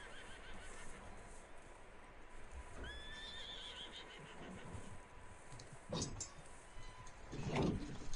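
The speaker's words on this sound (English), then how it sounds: "There's a horse. I hear a horse." Horse neighing in the video game Red Dead Redemption 2, a clear whinny rising out of a steady outdoor ambience, followed by louder rustling and hoof-like thumps near the end; no talking.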